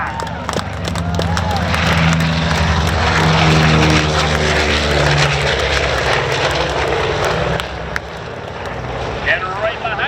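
The B-29 Superfortress Doc on its takeoff roll at a 2022 St. Louis air show: piston engines and propellers drone heavily and steadily while an announcer talks over the noise.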